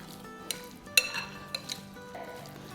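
Marinated chicken tikka mixture being stirred with spices in a bowl, quiet wet squelching broken by a few light clinks of a spoon on the bowl's rim, close up and without any voices.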